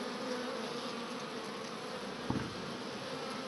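Honeybees buzz around a hive frame in winter, a faint steady hum of a few bees with one brief louder knock, no talking.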